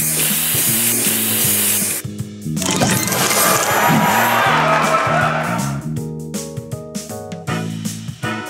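A spray booster effect fires in the Match Masters mobile game, a loud hissing spray burst lasting several seconds over looping upbeat game music with chiming tones.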